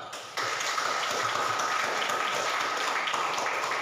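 A class of 8A students claps together in a classroom, a steady, fairly loud patter of hands that starts abruptly and continues evenly throughout.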